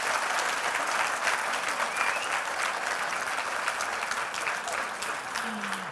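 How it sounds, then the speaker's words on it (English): Sustained applause from a seated audience honoring a panel at the close of an International Women's Day discussion, a steady, dense wash of clapping holding at even loudness throughout. "Round of applause, please, for our panel."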